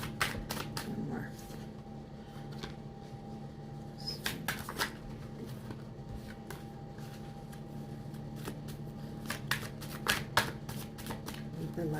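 Tarot cards are shuffled close to the mic in repeated soft riffling bursts and slaps, quiet and intermittent, with a voice speaking gently in between.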